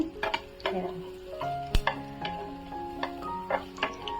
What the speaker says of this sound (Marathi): दुसऱ्या बाजूने पण हे करते फ्राय करून घेते